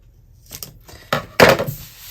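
Scissors cutting a planner page in a straight line, a few short crisp snips and paper rustles close by, growing louder toward the end.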